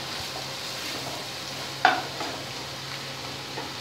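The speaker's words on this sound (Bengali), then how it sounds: "এবারে আদা রসুন বাটাটা দিয়ে দিচ্ছি, ভালো করে মশলাটাকে পটাতে হবে" Ginger garlic paste sizzles softly in a pan as it is stirred, a quiet steady frying hiss broken by one brief sharp scrape of the spoon, with no talking.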